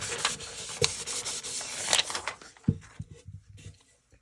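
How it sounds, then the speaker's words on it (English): A vellum sheet is rubbed firmly over a furniture paint transfer to burnish it, giving repeated close rasping strokes that grow softer and more broken as the rubbing eases off. "I'm just going to rub over this with my vellum sheet to burnish down that transfer onto the surface."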